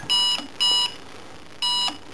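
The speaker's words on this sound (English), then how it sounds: "Beep test for that." An alarm sounds in short, loud electronic beeps, three evenly spaced bursts with a brief gap and a fourth just starting.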